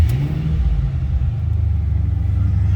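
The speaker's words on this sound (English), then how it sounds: "Let's go ahead and fire this up so you can hear it run." A supercharged 2006 Ford Mustang Saleen S281 coupe idles close by with a deep, even rumble and a steady low throb that carries through the whole stretch, with no talking.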